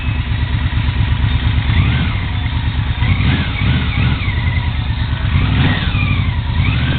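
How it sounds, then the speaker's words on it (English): A second-generation Yamaha Venture touring motorcycle ridden slowly gives a close, steady low engine rumble, with gentle revving swells rising and falling throughout. "This is slow riding a second gen Venture."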